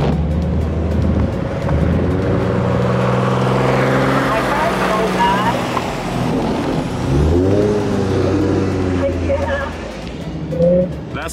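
Car engine revving hard with wheels spinning as the car sits stuck on a steep snowy hill without winter tires; a loud, sustained whine rises and falls throughout while people talk and cheer over it.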